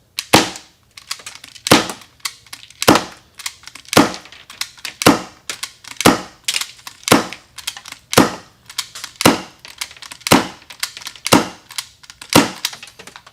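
A Navrich SSX23 airsoft pistol fires .20 BBs through a suppressor, about twelve sharp, close snapping shots spaced roughly a second apart, each alone against near silence.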